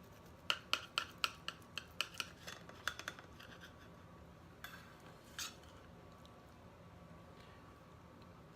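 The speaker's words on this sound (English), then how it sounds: "So I'm using a serrated knife because it cuts through it nicely." A serrated knife saws through a filet mignon on a plate, giving a quick series of sharp scraping clicks against the plate early on, then a few scattered scrapes over quiet kitchen background.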